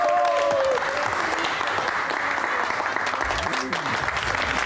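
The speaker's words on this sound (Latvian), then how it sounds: "Aplausi!" Studio audience applauding on a shopping game show, steady clapping throughout with a brief voice at the start and faint tonal sounds underneath.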